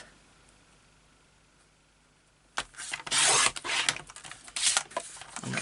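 Quiet at first, then a burnishing tool rubs firmly across paper in a craft mini album with several brisk, scraping strokes that swell and fade close by.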